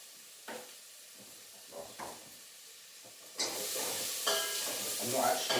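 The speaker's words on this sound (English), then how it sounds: "I'm just browning off the whole cardamom pods this time" Whole cardamom pods browning in a pan start with a few soft knocks and stirs, then a louder sizzling hiss rises and holds, with light scraping in the pan.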